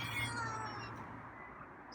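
A feral cat meows near the listener, a drawn-out harmonic cry that fades slowly across two seconds with nobody speaking.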